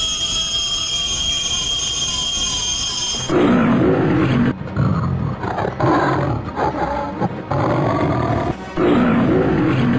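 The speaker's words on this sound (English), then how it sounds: "A lion killed Prasena and his horse and took the jewel" Deep, rumbling big-cat roars and growls repeat in bursts, loud and close, after a few seconds of a steady high-pitched whine.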